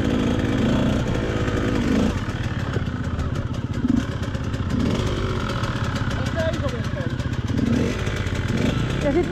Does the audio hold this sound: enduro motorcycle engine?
yes